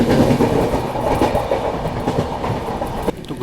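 An AC Express train pulling out of a station rolls along steadily with loud, close rumbling and rhythmic clickety-clack of wheels over rail joints.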